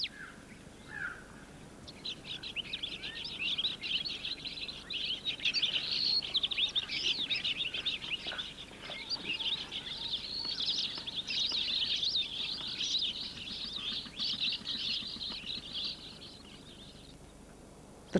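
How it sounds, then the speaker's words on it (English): Arabian golden sparrows, a resident bird of Yemen, chirp and twitter continuously in a busy chorus of high, rapid calls at moderate distance over a faint background, with no voices. "the Arabian golden sparrow, a resident bird, which although numerous here is only found in this part of the world"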